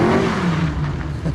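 Volvo car fitted with a Mustang V8 engine revving hard, a deep, loud, rumbling burst close by that rises and falls briefly.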